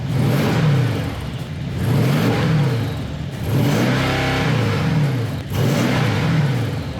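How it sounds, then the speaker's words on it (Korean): A Mercedes-Benz S63 AMG V8 exhaust revs repeatedly, four throaty rising-and-falling blips with brief pauses between them, loud and close with no talking. "이 V8 기통이 내는 이 우렁찬 배기음"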